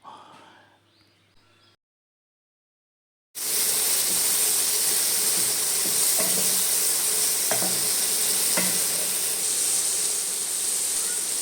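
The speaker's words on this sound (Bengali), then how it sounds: "লবণ হলুদ মাখানো চিংড়ি মাছগুলোকে এবার কড়াইতে দিয়ে আস্তে আস্তে করে ভেজে নেব।" Salt and turmeric coated prawns frying in a wok give a steady, loud sizzle and hiss that starts suddenly after a moment of silence, with a few faint clicks of stirring under it.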